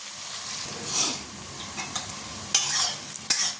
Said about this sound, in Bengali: চলো পেঁয়াজটাকে লাল লাল করে ভেজে নিই